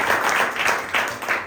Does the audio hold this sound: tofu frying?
no